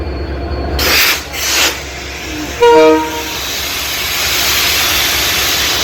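A train passes through Parbatipur railway junction, a steady rolling rumble filling the clip with a short horn-like tone sounding partway through, fairly loud and without talk.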